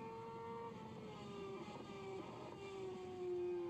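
Race car engine screaming at very high revs on track, a steady loud whine that climbs and shifts pitch, with a slight surge near the end as it works through downshifts.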